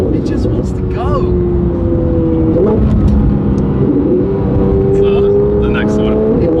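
A high-performance car engine rated at 950 wheel horsepower revs and drones steadily, loud and close, with rising and falling pitch sweeps.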